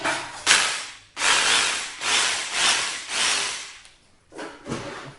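A Bosch GBH 2-20RE 600W rotary hammer drill running in bursts, with several loud, close, grinding drilling runs of about a second each separated by brief pauses.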